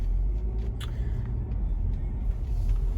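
A 2015 BMW X5 diesel xDrive twin turbo driving along, a steady low engine and road rumble heard from inside the cabin, with a few faint clicks and no talk.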